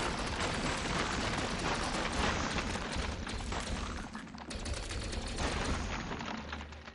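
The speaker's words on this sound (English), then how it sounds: "we can just shoot everything and see what it gives" Sustained, dense gunfire in a video game, rapid overlapping shots and bursts blending into a continuous loud barrage with no talk, easing briefly near the end.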